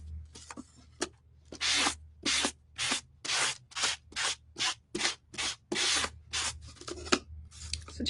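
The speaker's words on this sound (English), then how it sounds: "So just a quick sanding." Hand sanding of a wooden shadowbox: a dozen or so short, crisp rasping strokes in a steady back-and-forth rhythm, close and alone, with brief silences between passes.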